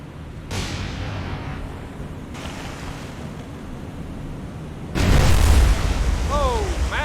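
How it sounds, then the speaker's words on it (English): Warship guns in the naval game War on the Sea firing star shells at night, heavy booming blasts that land over a constant rush of sea and wind, with a voice speaking. "Fire some star shells."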